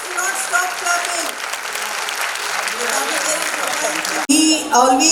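Sustained audience applause at the Silver Jubilee celebration of Vidyasagar International Jr. College, a dense, steady clapping from a large crowd with a voice speaking over it, breaking off briefly near the end.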